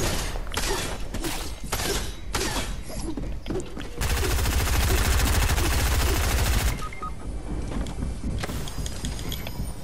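Assault rifle fire in a shooter game: rapid bursts of close, loud gunshots, then a sustained heavy roar of fire, followed by a few more scattered shots.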